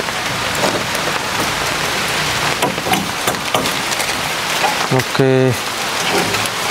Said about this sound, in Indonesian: Ini hujan teman-teman, hujannya gede banget ini.